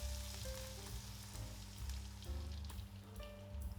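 Egg mixture poured over potatoes, chorizo, tomatoes and spring onions sizzles steadily in a hot pan over medium heat, a continuous close frying hiss with a low rumbling undertone and no talk.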